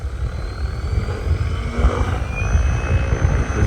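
A Goosky RC helicopter's rotor spinning at around 1,700 RPM, a loud, close, continuous whirring drone with a thin whine rising over it and no talking.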